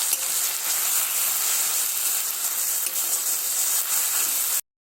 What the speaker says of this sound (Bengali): আমাদের তেলটা গরম হয়ে গেছে। এবার এর মধ্যে চিংড়ি মাছ দিয়ে বাটা কচুরলতিটা দিয়ে দেবো।